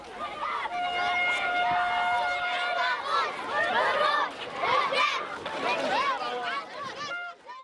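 Crowd of villagers cheering and chanting in a joyful procession through their village, a dense, loud mass of overlapping voices with a sustained whistle or horn tone early on, continuing throughout.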